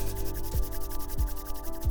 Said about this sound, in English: When you rub your hands together, you are creating friction